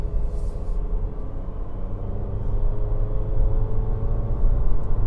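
A 2025 Honda HR-V Sport accelerating at about one-third throttle in eco mode, a low, steady engine rumble with road and wind noise building gently from inside the cabin.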